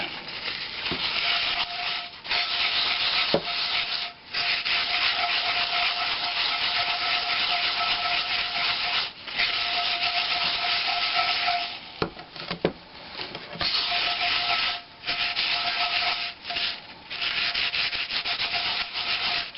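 A cast iron pan scrubbed by hand: steady, loud abrasive rubbing strokes run almost continuously, broken by a few brief pauses.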